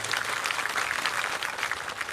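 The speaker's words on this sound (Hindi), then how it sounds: "जोरदार तालियां आप सभी के लिए।" Crowd at a Shri Shiv Mahapuran katha gathering breaking into brief, dense applause, a continuous patter of many clapping hands with no talk over it.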